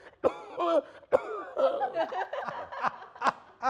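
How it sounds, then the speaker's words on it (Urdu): A man coughs repeatedly in rough bursts, the hacks mixed with throaty, chuckling sounds and some voiced noise, close and fairly clear, in an uneven rhythm. "ساری رات کھانستا رہتا ہوں۔"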